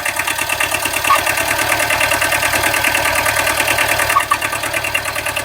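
A Kubota B7000 tractor fitted with a rotary tiller, its diesel engine running steadily up close with a loud, even chugging rhythm and no voices over it.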